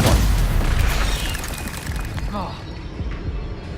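A Stupefy spell blast in Hogwarts Legacy lands as a deep, booming impact that rumbles and slowly fades, with a voice heard over it.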